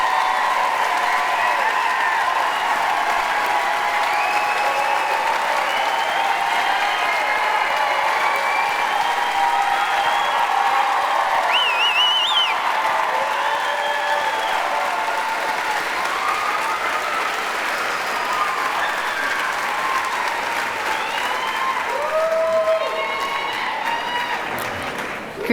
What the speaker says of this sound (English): Will you please join me in giving a huge round of applause for our nominees?